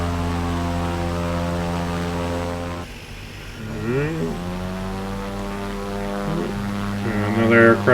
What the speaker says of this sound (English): Another aircraft taking off.